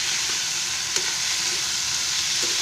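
Tomatoes being stirred into baby fenugreek bhaji frying in a pan, a steady broadband sizzle with a couple of faint spoon scrapes, close and even, no voices.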